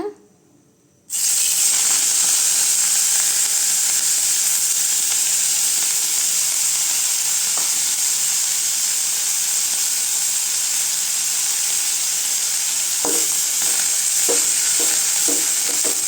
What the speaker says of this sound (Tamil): அதிலே கொஞ்சம் ஆயில் சேர்த்துட்டு மல்லித்தழை சேர்த்துக்கலாங்க.